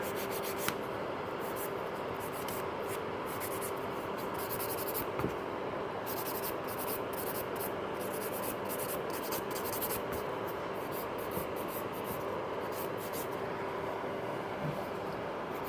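Soft, steady rasping of a gentle hand nail file shaping almond nails during a salon correction of grown-out nails, a continuous close scratching texture running unbroken with no talk.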